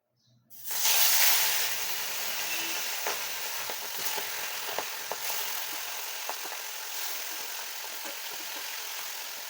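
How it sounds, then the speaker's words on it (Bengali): Bata fish pieces sizzle steadily in a wok of hot oil, a loud, continuous crackling hiss that starts abruptly and holds with small pops throughout, no voices. "এইবারে আমি এর মধ্যে ধীরে ধীরে আমাদের মাছগুলো ভেজে নেব।"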